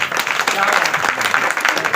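An audience claps together at a Shrimad Bhagavat Katha religious discourse in Vrindavan, a dense burst of applause that fills the whole short moment, close and fairly loud.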